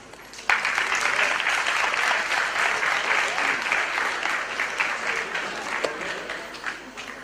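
Warm audience applause in a hall in La Paz greeting a speaker at a gastronomy gathering, starting abruptly, sustained dense clapping that gradually thins and fades with scattered last claps.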